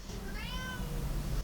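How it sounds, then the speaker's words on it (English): A house cat gives a single clear meow, close by and fairly soft, with quiet room tone around it. "I can't stop him from meowing"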